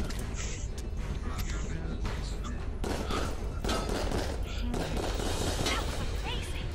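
Gunfire in the VR shooter Raw Data, rapid repeated shots and laser blasts crackling continuously at moderate loudness, with a player talking over the action.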